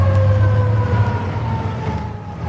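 Fire engine sirens in a storybook scene with people everywhere: a loud wailing siren sweeping downward over a low engine rumble, with no talk.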